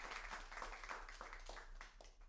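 Audience applause welcoming Dr. Joseph P. Smith at a talk on psychedelic experiences, a quiet, steady patter of many hands that sounds fairly distant, with individual claps picking out now and then.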